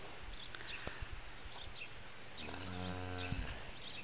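Cattle lowing out in a pasture, one drawn-out moo rising from a steady outdoor hiss midway through, distant and faint, with a few soft knocks before it.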